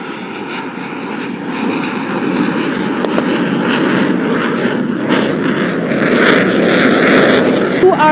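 JF-17 fighter jet flying vertical rolls at the close of an aerobatic display over the Pakistan Day Parade, its engine a loud, swelling roar that builds toward the end, with a commentator talking over it.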